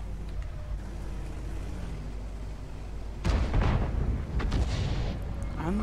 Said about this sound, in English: And their artillery.